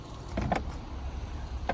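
Power trunk on a 2022 Audi E-tron GT closing, a low steady motor hum with a few soft mechanical clicks and a final latch tap, close and quiet.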